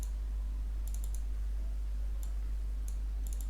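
Computer mouse clicked on a Windows 11 PC: a few quick, faint clicks, some in tight pairs or triplets, scattered over a steady low electrical hum with no talking.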